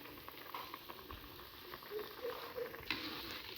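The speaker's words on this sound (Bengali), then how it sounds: "এই দেখেন, আমাদের কি সুন্দর করে ফুটছে, পুরো তেল ছাড়ছে" Raw mustard oil heats and bubbles in a pan with faint, soft sizzling and scattered light crackles, quiet and close with no talking.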